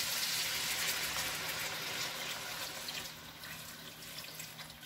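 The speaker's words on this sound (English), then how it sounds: "we're going to cover this with water" Water gushes steadily from a tap into a pot holding chicken, a continuous hiss that softens a little toward the end, with no voices.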